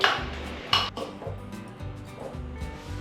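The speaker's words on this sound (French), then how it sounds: "Alors on casse 2 œufs. Hop, on mélange bien nos œufs." Two eggs are whisked in a bowl for a bun egg wash, a quick run of clinks and taps of utensil against the dish, close and fairly quiet with no talking.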